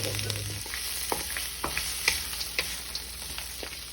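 Frozen mixed vegetables sizzle steadily in a hot pan for a chicken fried rice, with a continuous frying hiss and scattered soft clicks and scrapes of stirring, close and moderately loud with no voices.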